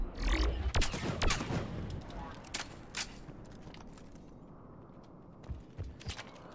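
Gunfire in Mass Effect 3, a dense burst of rapid shots at the start thinning to scattered single cracks and distant bangs over a low rumbling background.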